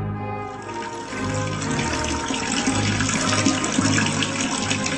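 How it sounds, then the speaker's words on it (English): Cartoon figure urinating into a bathroom toilet, heard as a steady, continuous trickle and splash of water into the bowl, fairly close and unbroken throughout, with no talking. "Now let's pee on toilet."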